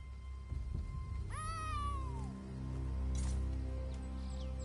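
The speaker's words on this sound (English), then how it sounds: "Follow that cat!" Cat meowing in the video game Elder Scrolls Online: one clear, drawn-out meow rising then falling, heard alone over a low, steady game background hum.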